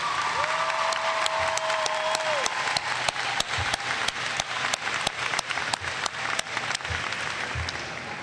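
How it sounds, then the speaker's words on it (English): A high school graduation audience claps in a sustained round of applause, steady and fairly loud across a large hall, with a few sharper individual claps standing out. "provide a nice round of applause for those"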